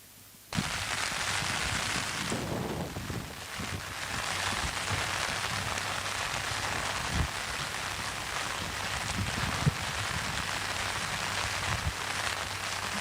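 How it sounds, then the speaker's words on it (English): Steady rain falling during an open water swim, a dense continuous hiss of drops with wind noise over the microphone, fairly loud and unbroken throughout with no voices. "Like you'll see, it's raining."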